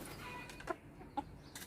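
A Thai white-eared fighting rooster, a white bird, gives two short clucks about half a second apart, fairly close, over quiet outdoor background.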